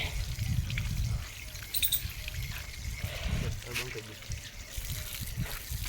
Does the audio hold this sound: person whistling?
no